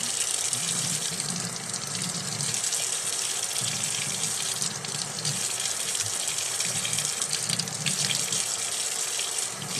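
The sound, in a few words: tap water running into sink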